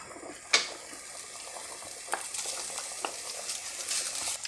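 Smoky bacon cubes frying in a pan over medium heat, a steady close sizzle broken by a sharp clink early on and a few scraping stirs.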